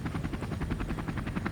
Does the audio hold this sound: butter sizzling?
no